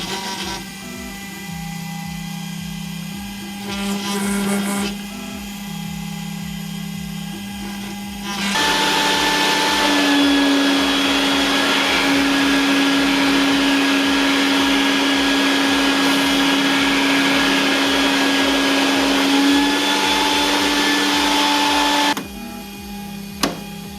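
A Makera Carvera Air CNC machine with a dust shoe running loudly and steadily, first with a lower mechanical drone, then with a louder whining, grinding cut that holds a high tonal note before dropping back.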